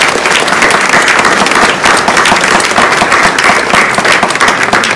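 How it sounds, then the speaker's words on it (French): Loud, dense applause from an audience at an art exhibition opening and prize ceremony, continuous rapid clapping filling the room without pause. "je crois qu'on peut applaudir Guy Pierre et Isabelas"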